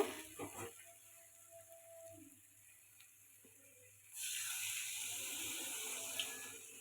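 Water is poured into a pabda fish curry in a pan: quiet kitchen clinks at first, then a steady, fairly loud rushing pour that continues to the end.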